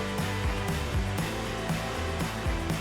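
A heat gun shrinks heat-shrink tubing over a fuse holder terminal on a power wire during a Ford Bronco audio install, giving a loud, steady, close blowing whir with a pulsing hum throughout.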